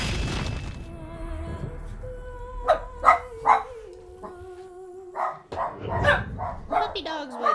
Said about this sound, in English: Puppy dogs, why do you bark?